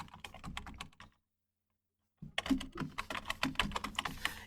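Someone types a number on a computer keyboard: rapid clicking keystrokes in two bursts separated by about a second of silence, close and crisp.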